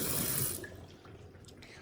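Water runs from a tap into a pet's dish, a soft steady hiss that fades after half a second to a faint trickle.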